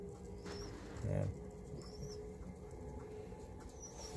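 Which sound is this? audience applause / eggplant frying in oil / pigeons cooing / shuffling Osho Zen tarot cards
pigeons cooing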